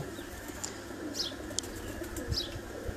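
Pigeons on a rooftop in Kharian, with soft cooing, a few brief chirps and light wing flutters over a low background hum, close by and fairly quiet.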